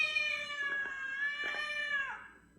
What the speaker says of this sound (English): Listen how clearly you can hear this cat say, "Get out."